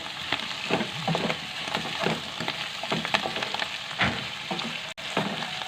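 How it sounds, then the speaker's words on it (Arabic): Chicken liver and onion fry in a pan with a steady crackling sizzle, broken up by scraping stirs at close range. "وغنخلي كلشي يتشحر مزيان"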